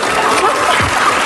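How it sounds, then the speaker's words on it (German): A German television studio audience applauds in a dense, even wash of clapping that stays loud and steady throughout the short moment. "Ja, Applaus."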